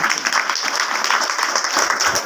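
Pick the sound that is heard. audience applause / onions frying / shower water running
audience applause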